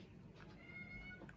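A house cat gives a single short meow, faint and a little distant, drawn out over about a second against quiet room noise.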